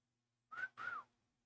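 A short two-note whistle, a quick rising-falling tone followed by a longer sweeping one, soft and close, with no talking.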